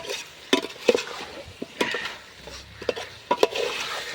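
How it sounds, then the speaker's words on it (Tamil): Chicken leg pieces frying in oil stirred with a ladle, sharp irregular scrapes and clinks against the pan over a faint sizzle, close and with no talk. "5 மினிட்ஸ் நல்லா பரட்டிட்டே இருங்க"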